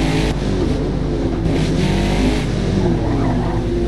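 A Mazda racing car in Forza Motorsport at Laguna Seca drones and revs loudly and continuously, a dense engine roar with slight swells in pitch and no voices.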